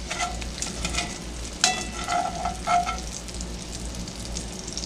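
Onions are scraped out of a hot cast iron pan over a constant loud sizzle, with a few metallic scrapes and clinks of the utensil against the pan partway through.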